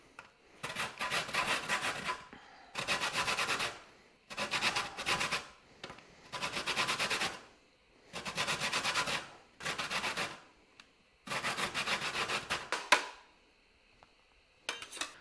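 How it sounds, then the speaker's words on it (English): Lime rubbed against a zester or grater in short rasping bursts, about seven strokes separated by brief pauses, close and clear with no talking. "Next, we're going to use the zest of 1 lime."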